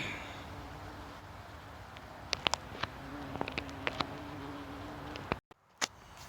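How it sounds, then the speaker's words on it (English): Low steady buzzing of honeybee drones flying in to a hive in late season, with a few sharp clicks and taps scattered through and a brief dropout near the end. "There's a whole bunch of drones coming in."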